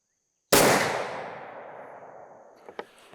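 One black powder rifle shot fires a Federal BORLOK 270-grain bullet over a Triple Seven charge at an outdoor range: a single sharp, loud crack after brief silence, trailing off in a long echoing decay with a couple of faint knocks afterward.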